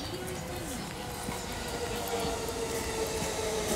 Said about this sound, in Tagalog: parating na yung tren.